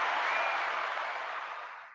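Canned applause played from a soundboard: a dense, even burst of clapping that holds steady, then fades out smoothly toward the end, alone without talk.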